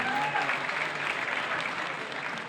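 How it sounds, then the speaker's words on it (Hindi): A crowd at a public gathering in Saharanpur applauds loudly to welcome an MP, a dense, continuous wash of clapping that holds steady for the whole stretch. "जोरदार तालियों के साथ"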